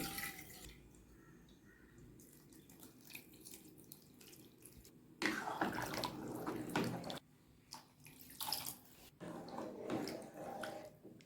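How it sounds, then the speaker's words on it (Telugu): Water splashes and pours in bursts into a cooking pot of lentils and vegetables, with quieter gaps between pours, close by and alone. "ఇప్పుడు కొన్ని వాటర్ ఇందులో పోసుకొని"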